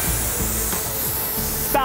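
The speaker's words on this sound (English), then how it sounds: "Spray." Aerosol spray paint can hissing in a steady, continuous burst while street art is painted outdoors, close and fairly loud, with a faint voice underneath and a brief rattle near the end.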